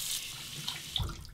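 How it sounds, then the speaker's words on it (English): Hot tap water runs steadily into a sink to soak a black-bristled Shave Nation G5 synthetic shaving brush, a close, continuous hiss with small splashes as the brush goes under. "Give it a good soak under the hot water."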